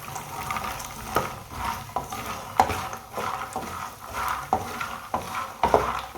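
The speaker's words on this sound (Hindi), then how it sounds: "फूल मखाने को चम्मच चलाते हुए ब्राउन करना, हल्का सा ब्राउन करना" A spoon stirs fox nuts (makhana) roasting in a little oil in a pan, scraping in a repeated rhythm of sharp clinks over a faint sizzle, close by and without speech.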